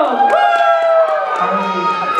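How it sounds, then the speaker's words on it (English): A festival crowd whoops and cheers loudly right before a raffle round, with voices shouting over one another close by for about two seconds. "Let's cheer for our second and final set of raffles."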